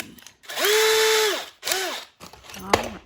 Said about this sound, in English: let me drill a hole down into the center of this